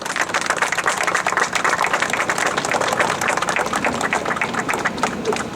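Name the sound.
applause for honored guests at ceremony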